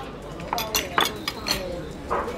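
Dishes and cutlery clink a few times, bright and brief, as a salad plate is set down in a busy Istanbul restaurant, with faint voices behind.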